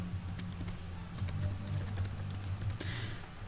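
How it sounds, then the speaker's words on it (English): Quick typing on a computer keyboard, entering title text in Adobe After Effects: a dense run of light, close key clicks over a low background hum, no voices. "click in your screen and type in anything you like"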